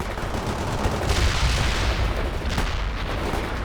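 Dense, continuous gunfire and explosions in the video game World in Conflict, an insurgents mission, with rapid overlapping shots and booms filling the whole stretch at high loudness and no voices.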